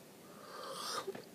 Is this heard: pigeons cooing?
no